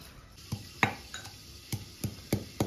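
Green chilies crushed by hand make a series of about seven sharp, fairly close thumps, spaced irregularly over a quiet background.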